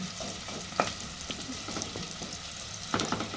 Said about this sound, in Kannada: ಉಳ್ಳಾಗಡ್ಡೆ ಸ್ವಲ್ಪ ಫ್ರೈ ಆದ್ರು ಅಂತ ಹೇಳಿದ್ರೆ ಟೊಮೆಟೊ ಹಣ್ಣು ಕೊತ್ತಂಬರಿ ಸೊಪ್ಪು ಹಾಕಿ